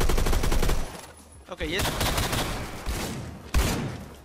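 Gunfire from a weapon in the Roblox shooter Phantom Forces, loud bursts of rapid shots at the start and again after a brief lull, with a sharp single report near the end and someone speaking briefly over it.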